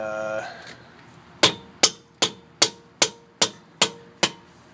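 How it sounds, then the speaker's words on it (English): A mallet strikes a Nissan 370Z brake rotor eight times in a steady, evenly spaced series of sharp, loud metallic whacks, following a short bit of talking at the start. "I have this wonderful mallet, and you just give it a couple whacks"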